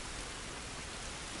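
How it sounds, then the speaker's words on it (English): Steady, dense rain hisses evenly throughout in The Last of Us Part 1, a constant wash of drops on surfaces with no other sounds breaking through. "This rain ain't gonna do us any good."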